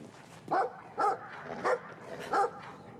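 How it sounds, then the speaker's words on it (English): A dog barks in Brothers: A Tale of Two Sons, four loud evenly spaced barks in quick succession over a faint game background. "we're gonna run from a dog"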